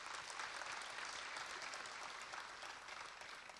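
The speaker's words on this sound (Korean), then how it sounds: "우리 교수님들이 계신데 좀 그런 측면에서도 좀 박수 한번 좀 보내주시길 부탁을 드립니다." Audience applause at a university family-company event: sustained even clapping from a crowd, moderately distant and fairly faint, continuous for a few seconds with no talk.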